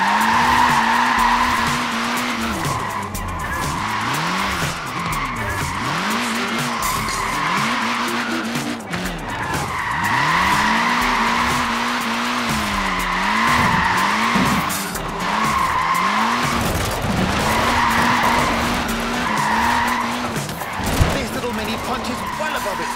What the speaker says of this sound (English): It's really not an easy car to slide,